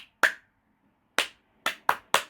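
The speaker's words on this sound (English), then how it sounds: "Give yourselves another round of applause" A handful of children clapping after singing Bingo, not a full round of applause but a few isolated, sharp claps: one, a pause of nearly a second, then four more in quick, uneven succession, close and clear in a quiet room.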